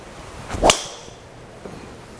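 A Callaway Mavrik Sub Zero driver strikes a golf ball with one sharp, loud impact followed by a brief whooshing tail as the ball leaves, then quiet outdoor background.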